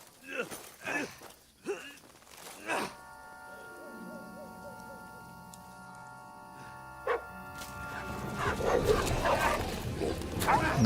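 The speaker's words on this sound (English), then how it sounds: "Nice, doggy." A dog in Kingdom Come: Deliverance II gives several short, close barks and yips over a sustained musical drone, with a voice speaking in places.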